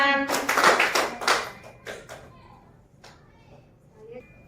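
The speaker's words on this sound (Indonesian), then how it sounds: "Ayo tepuk tangan." A group of adults and children clapping hands together during a classroom activity session, a burst of loud, dense clapping that fades into scattered claps and background voices.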